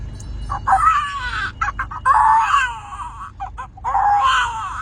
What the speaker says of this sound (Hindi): घर में बच्ची रो रही होती छोटी सी